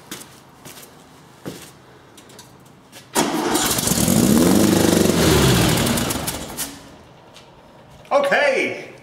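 A 1974 VW Beetle engine cranks briefly, catches and runs loudly for several seconds with a rough, uneven idle before cutting off, followed by a short burst of other noise.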